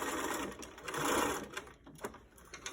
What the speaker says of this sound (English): I'm going to turn my sewing machine on to zigzag stitch